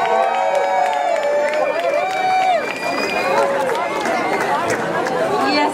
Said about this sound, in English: Please give her a big, big round of applause.